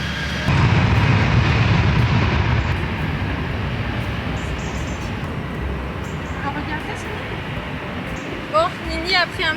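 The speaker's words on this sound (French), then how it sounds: "L'avion qui va décoller là, mon cœur, ça va faire du bruit." Airplane engine roaring steadily as a plane takes off at an airport, a loud continuous rumble that slowly eases, with people talking over it.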